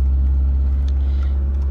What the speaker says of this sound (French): Là, on va la démarrer. Et vous voyez, ça démarre au quart de tour pour une voiture des années 83.